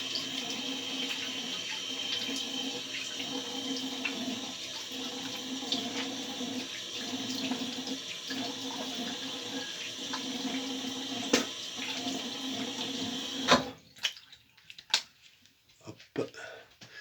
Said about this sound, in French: on va rincer tout ça.